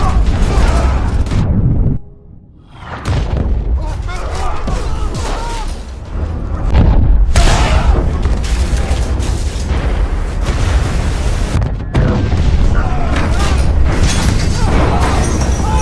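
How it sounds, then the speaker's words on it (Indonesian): Rocket explosions from a submarine war film about a US versus Russia missile battle: repeated heavy booms and blasts over roaring rumble, with a brief lull early on, loud and dense throughout. "Namun banyaknya roket yang meledak malah memberi dampak besar bagi USS Arkansas."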